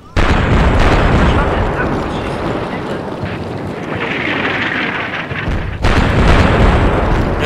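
Howitzer artillery fire in the video game Combat Mission Shock Force, a continuous loud roar of blasts and rumbling explosions with a sharp new impact near the end, all close and without talk.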